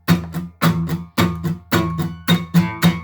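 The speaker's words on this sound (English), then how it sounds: "you're sort of muting your guitar" Muted guitar strumming with fingers resting lightly on the strings, not pressing the notes, giving percussive choked chord hits in a steady rhythm of about ten strokes, close and fairly loud with no voices.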